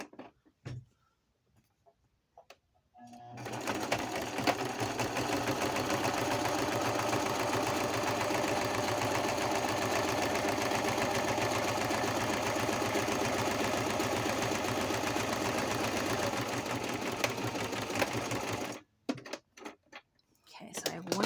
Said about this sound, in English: All right, so I am sewing